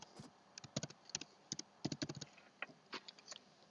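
Quick bursts of typing on a computer keyboard as a name is entered into a form, with irregular clusters of crisp key taps, close and fairly quiet, with no talk.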